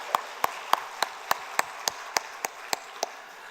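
A church congregation claps sparsely as a blessing during a Sunday service, about eleven evenly spaced claps over a quiet room, like a slow, rhythmic hand clap rather than full applause.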